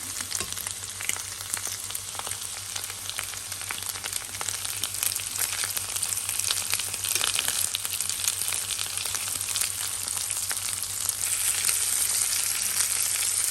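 Prawns sizzle with garlic in a hot pan, a steady, close, bright frying hiss with small crackles throughout and no talk.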